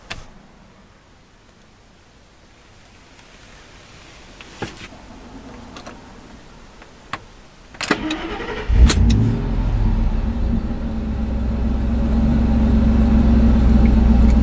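A Ford SVT Lightning pickup is started after battery maintenance: faint clicks and ticks as the key turns on, a cranking burst, then the engine catches and settles into a loud, steady idle close by.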